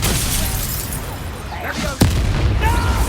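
A Confringo blasting spell explodes in the video game Hogwarts Legacy: a sharp, loud boom cracks out near the middle over a dense bed of game music and combat noise, with a voice calling out the spell just before.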